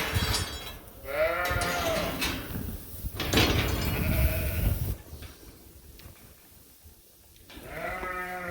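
Sheep bleat several times in a pen during lice treatment, drawn-out wavering calls close by, with metallic clanks and shuffling between them.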